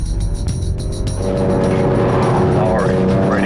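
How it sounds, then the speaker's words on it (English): A Ferrari engine revs hard with extra throttle, a loud continuous roar that climbs in pitch, while a person talks over it. "Give it a little more throttle than I would usually do."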